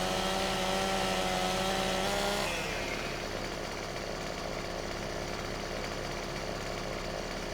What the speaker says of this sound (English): And this chainsaw is a great one.